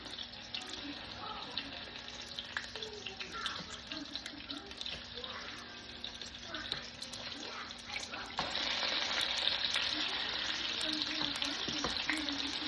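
A chicken patty sizzles steadily in a frying pan, a constant frying hiss that grows louder and denser once the patty is flipped, heard close with no talking.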